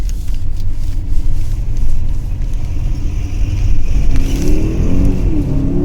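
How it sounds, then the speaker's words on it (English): A Mercedes-Benz GLS 580's 480-horsepower V8 engine roars and revs up as the SUV accelerates in comfort mode, a loud, deep rumble that climbs in pitch toward the end. "that's the V8 engine kicking in with all 480 horsepower"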